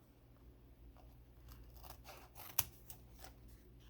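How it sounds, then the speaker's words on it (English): Scissors trim excess packing tape on a handmade mini notepad with a few quiet close snips and a rustle of tape, building to one sharp cut and a softer final snip. "And just trim off that extra tape."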